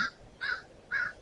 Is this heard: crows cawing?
yes